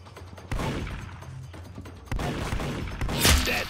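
Gunshots in the Roblox shooter game Arsenal, several sharp bursts of gunfire among booms and thuds, the last one louder and closer, with no talking.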